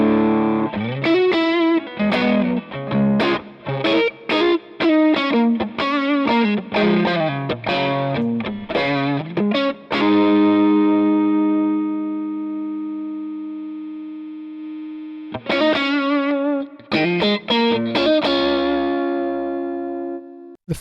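An electric guitar through a Klon overdrive pedal emulation in Two Notes Genome plays choppy overdriven riffs, lets a chord ring out and decay, then returns with more driven phrases, close and loud with no talking.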